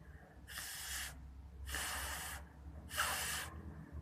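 Three bursts of breath blown through a face mask toward a lighter flame, each a loud airy rush lasting about half a second, evenly spaced with short pauses and a low hum underneath.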